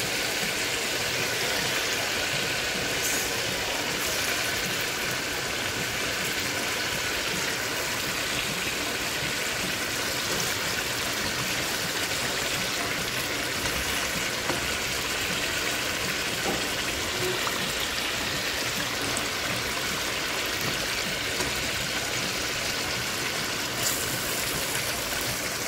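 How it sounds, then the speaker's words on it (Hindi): Fish added to frying masala for fish biryani sizzles in a continuous, dense hiss, loud and close and steady throughout with no speech. "अब इसमें डालते हैं फिश"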